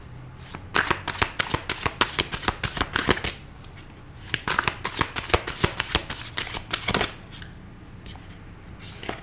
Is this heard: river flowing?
no